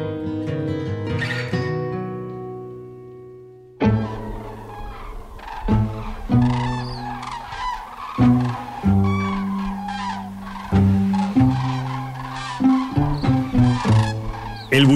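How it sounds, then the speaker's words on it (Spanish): A large winter flock of cranes gathers around La Colada reservoir in Andalusia's Valle de los Pedroches. A sustained tonal passage gives way to a loud, dense chorus of overlapping honking calls that rises and falls. "Y atrae, en invierno, en torno al embalse de la Colada, a la mayor bandada de grullas de nuestra comunidad"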